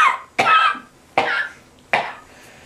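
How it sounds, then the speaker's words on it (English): Three sharp, harsh coughs spaced about a second apart, each fading quickly, close and loud with no talk around them. "The reason I'm coughing is that I'm in Tower number 7, the Smoky Tower."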